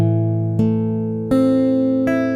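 A minor chord strummed on an acoustic guitar with the sixth string muted, sounded as a ringing chord followed by three more strums that each sustain and decay, alone with no voices.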